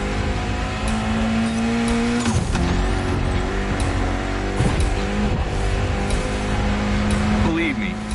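Mitsubishi inline four-cylinder of 280 horsepower revs in the racing game The Crew Motorfest, a steady droning engine tone that rises in pitch around a shift, with someone talking over it throughout.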